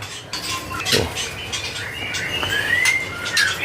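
A large-bodied giras bird with a very thick beak sings in bright, high chirps and whistled rising notes, fairly close and repeated across the stretch over a soft background hiss.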